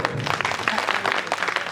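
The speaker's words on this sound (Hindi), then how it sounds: "एक बार जोरदार ताली बजाओ" An audience at a Hindi comic poetry recital claps loudly and steadily throughout, a dense, continuous round of applause with no voices rising above it.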